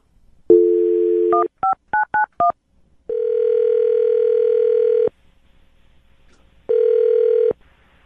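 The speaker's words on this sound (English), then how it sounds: "I'm going to dial the phone number right now, get him on the phone" A quick series of telephone keypad tones beeps out, followed by long ringing tones on the line with short pauses between them.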